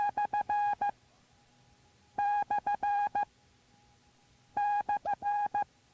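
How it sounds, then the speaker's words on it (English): A Morse code slant bar character is sent three times as steady single-pitch beeps in a dah-dit-dit-dah-dit pattern, with gaps between repetitions and no talk. "sounds like this, the slant bar"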